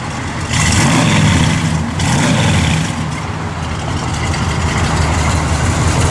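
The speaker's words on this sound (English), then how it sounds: "Give it a little rev." A 1965 Chevrolet Malibu SS engine runs loud and close, giving a deep, steady rumble with a brief swell early on as the throttle is blipped, then settling into an even idle.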